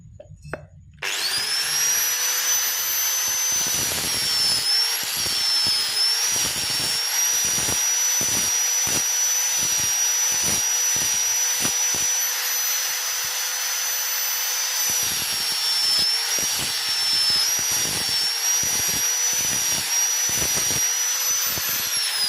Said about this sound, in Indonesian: kita gerinda sampai press seperti ini